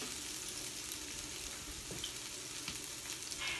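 Food fries in a pan with jalapenos nearby, giving a soft continuous sizzle with light scraping and stirring movements, fairly quiet and close, no voices.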